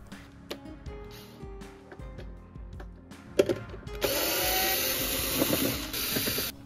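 Power tool backing screws out of a JBL PartyBox 310 speaker during a teardown, quiet clicks and handling at first, then a loud, steady, high whirring drill buzz that runs for several seconds nearby.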